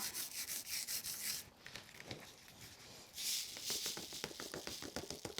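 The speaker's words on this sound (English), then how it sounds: "we're just going to burnish the ice snow across the top of that for a really lovely effect" Repeated rubbing strokes of burnishing ice snow foil across a sticky card sheet, a close, dry scratchy rhythm that pauses briefly midway before resuming in quick strokes.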